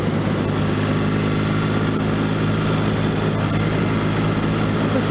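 A 1964 Royal Enfield Interceptor Mk1 motorcycle engine pulls under throttle on a hilly road, a loud, continuous droning hum mixed with rushing wind, steady for the whole stretch.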